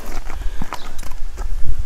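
Horse hooves clip-clop on the ground in a quick, uneven rhythm, close and fairly loud, with several distinct strikes over a short stretch and no talking.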